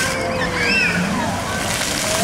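Water sloshes and splashes steadily at close range during an outdoor summer swim at Stony Point, with voices talking over it throughout.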